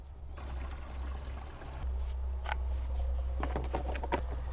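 Water is poured in to mix a homemade yogurt and coffee plant spray against aphids, making a steady close trickle over a low hum. The splashing grows livelier toward the end, with no talk.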